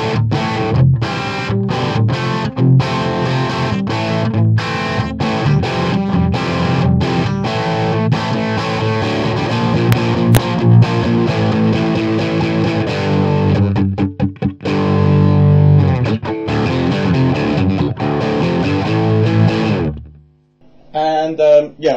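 Electric guitar through a Marshall JCM800 2204 amp cranked to full volume, loud distorted chords and riffs played continuously for about twenty seconds before cutting off abruptly.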